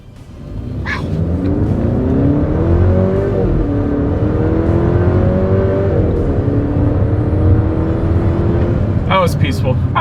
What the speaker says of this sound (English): let's see how quickly we can get our new 2026 Volvo XC40 here up to speed